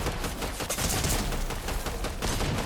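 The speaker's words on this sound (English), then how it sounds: "This person is just using the auto shotgun." Rapid bursts of automatic shotgun fire in Fortnite zero build combat, a dense, continuous barrage of loud game gunshots running through the whole stretch with no talk over it.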